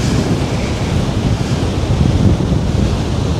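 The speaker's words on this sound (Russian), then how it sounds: "Посмотрите, как волна заходит в сторону дюн через русло." Storm waves surge onto the beach at Anapa and push toward the dunes, a loud continuous roaring wash of surf with heavy wind buffeting the microphone, no voices.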